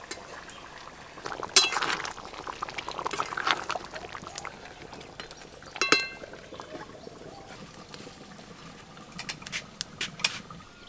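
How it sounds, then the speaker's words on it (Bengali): Mutton bubbling in curry as it cooks down in a pot for a potato mutton curry, with soft liquid bubbling, a few metal spoon clinks and scrapes against the pot, close and quiet, with no voices. "এইভাবে নাড়তে নাড়তে আমি মাংস কষে নেব।"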